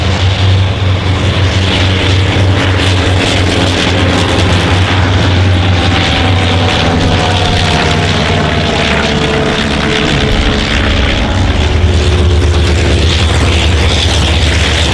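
A vintage Sopwith propeller aircraft flies at the Shuttleworth Festival of Flight, its engine drone loud and sustained throughout, with the pitch shifting as it passes, and no voices.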